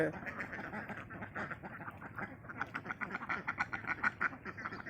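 Many ducks quack continuously in a busy, overlapping chorus at moderate distance, with a person talking faintly underneath.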